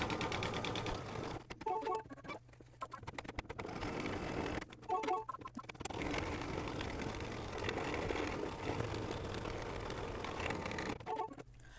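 An embroidery machine satin stitches a black appliqué on a mug rug, a rapid mechanical chatter running in long bursts broken by short pauses, close and fairly quiet.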